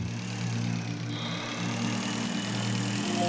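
A motorbike engine from the space-survival game Breathedge hums steadily at a low idle-like pitch, alone and fairly close, holding a constant tone throughout.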